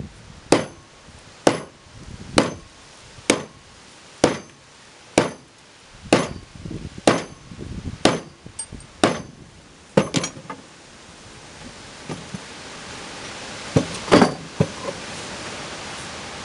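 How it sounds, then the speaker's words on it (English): A sledgehammer pounds a wooden finger joint together in a steady series of about a dozen heavy, evenly spaced thuds, each a sharp wooden knock, before the blows grow irregular and fade into background noise. "Sometimes I like to get two hands on this here sledgehammer"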